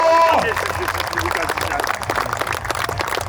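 Crowd applause at a football match for a departing player, dense clapping sustained throughout, with someone speaking loudly over it through a public address system.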